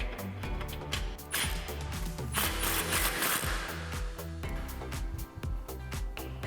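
Ratcheting and rattling tool sounds from a 12 mm socket snugging a bolt on a 2016-2022 Toyota TRD front skid plate, a dense run of close metallic clicks and whirring bursts that fills the clip.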